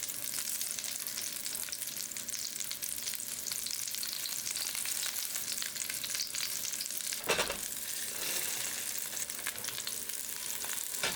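Ground chicken and stuffing patties sizzle steadily in a hot pan with a crackling, spattering hiss, interrupted midway by a brief louder scrape or flip before the frying resumes.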